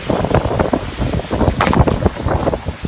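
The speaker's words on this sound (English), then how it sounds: "And the wind has turned my umbrella wrong side out." Strong wind gusting outdoors, hard enough to turn an umbrella inside out, a loud rumbling buffeting against the microphone in uneven surges throughout, with no talking.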